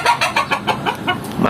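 Healthy Indonesian roosters kept in a clean coop cluck repeatedly in a quick, uneven series of close, fairly loud calls, with no talk over them.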